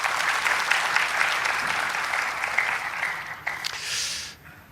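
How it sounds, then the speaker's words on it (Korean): Applause from the members and gallery of a regional council plenary session welcoming visiting guests, a steady dense clatter of many hands that fades out near the end. "박수로 환영해 주시기 바랍니다"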